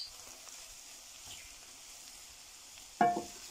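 Carrot halwa frying in oil in a pan gives a faint, steady sizzle throughout, with one sharp scrape of a spoon stirring near the end.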